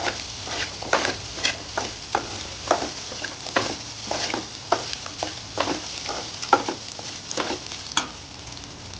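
Mint leaves frying lightly in a pan for mint rice, a low crackling sizzle broken by repeated sharp spatula scrapes and stirring strokes at an uneven rhythm.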